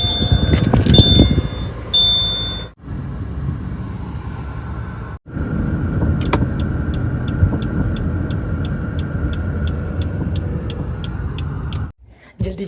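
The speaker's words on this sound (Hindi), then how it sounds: "तो अभी बस ये आ चुके हैं गाड़ी।" A car pulls up outside after a facial parlor visit, a steady low engine and road rumble filling most of the stretch with brief breaks, while a voice talks over the start.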